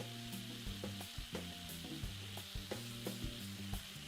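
An egg frying in a pan in the Taskmaster VR video game makes a constant, even sizzle, with light regular clicks and taps on top and no voices.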